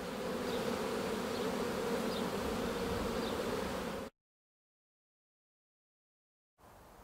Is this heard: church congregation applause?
no